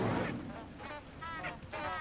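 Incendio fire spell cast in the Hogwarts Legacy video game, a burst of whooshing, crackling magic followed by several sharp bursts and flares, moderately loud with game effects layered over it.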